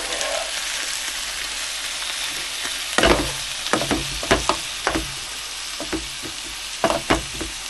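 Beef with seasoned Maggi frying in a pot for a steak stew, heard as a steady close sizzle with intermittent scraping and knocking from stirring, in irregular bursts.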